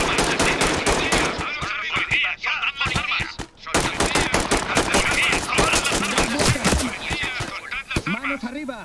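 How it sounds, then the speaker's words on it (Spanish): Rapid bursts of automatic gunfire in the tactical police shooter Ready or Not during a convenience store raid, sharp repeated shots in quick succession with brief pauses between volleys. "Más disparos."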